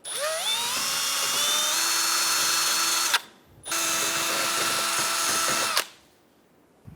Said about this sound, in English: Using a wire brush, go around and clean the hub